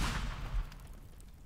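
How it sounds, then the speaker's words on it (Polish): A bomb detonates in the physics-based video game Teardown, a heavy low boom at the start with a rumbling tail that fades out over a second and a half, with no voices. "Ma dosyć mocną eksplozję."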